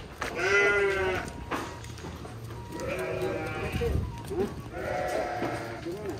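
Garut sheep bleat repeatedly inside a pen, three long wavering calls close by, with people talking quietly in the background between them.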